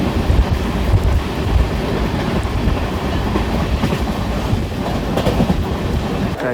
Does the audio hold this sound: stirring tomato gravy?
no